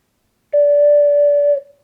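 An STL ocarina sounds a D with one finger lifted, a clear sustained flute-like tone lasting about a second with a soft tail as the breath stops, played solo and close.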